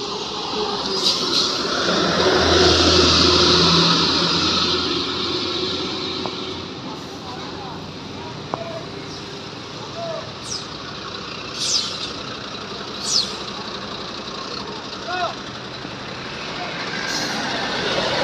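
A large Armada Indah bus rumbles past nearby, engine swelling and fading, with several sharp hissing bursts like air brakes and people talking faintly.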